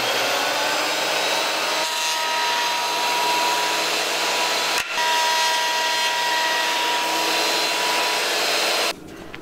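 An electric planer trims wood for arched door trim in a converted school bus, a loud continuous high whirring drone lasting nearly the whole clip before cutting off abruptly near the end.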